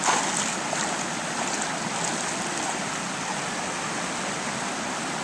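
Water at a zoo rushes and splashes steadily, like a stream or fountain, as a dense, even hiss that stays fairly close and moderately loud. No voices rise above it.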